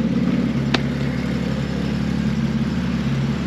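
A BMW 750iL V12 runs after a restart, idling in a steady, close, even hum with a faint rhythmic clatter and one brief sharp tick early on, with no talk.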